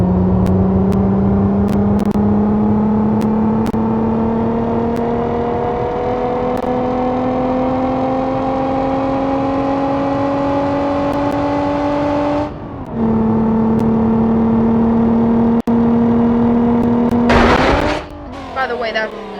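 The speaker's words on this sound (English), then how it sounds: "By the way, that's the sound of the car" A steady engine drone with rising pitch, like a car accelerating in the video game BeamNG.drive, dips briefly as gears shift, then surges into a louder burst near the end.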